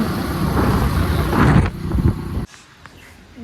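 Strong wind gusts through an outdoor courtyard, buffeting the microphone with a loud, rough rumble that drops away abruptly partway through.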